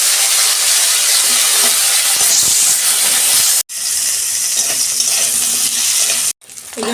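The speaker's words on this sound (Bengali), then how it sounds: "কাঁচকলাগুলো ভেজে নিচ্ছি।" Slices of raw green banana fry in a karai full of hot oil for a Bengali vegetarian shukto. A loud, dense, close sizzle hisses continuously, cut off twice by brief silences, with no voices.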